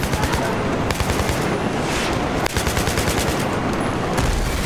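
Loud, continuous rapid-fire gunfire in the video game Battlefield 3 rattles without pause, dense automatic bursts filling the whole stretch with a brief break midway.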